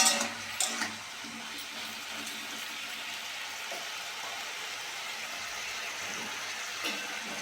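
A little water is poured into frying ridge gourd and potato in a pan, an initial splash and hiss that settles into a soft, even simmering sizzle, close and moderately quiet.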